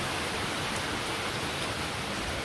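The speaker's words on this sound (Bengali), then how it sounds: "আবার রোদের পরে আবার বৃষ্টি নামছে" Steady rain falls at midday after a brief spell of sunshine, making a dense, even hiss that fills the whole stretch without pause or variation and without any voices.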